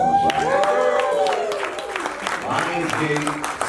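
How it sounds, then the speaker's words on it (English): A live audience breaks into a round of applause at an event, broadband clapping running underneath excited voices and shouts throughout, fairly loud and sustained. "Give them a round of applause."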